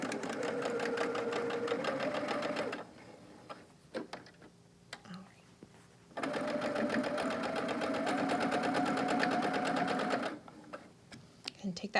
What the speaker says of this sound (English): So we're going to go ahead and sew this on.